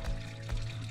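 Water pouring steadily from a pipe into a drain channel at a hill-station site fed from a small pond above, a close continuous splashing gush with no voices.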